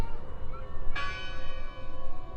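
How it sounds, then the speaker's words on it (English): A single church bell strikes once in the game Draugen, ringing out loud and clear with a long shimmering decay and no talk over it. "Listen! The bell! They're still in there!"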